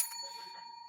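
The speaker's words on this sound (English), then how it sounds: "the ding bell works great" A ding bell is struck once, giving a bright metallic ring that fades away over about a second; it is fairly quiet, with no talking.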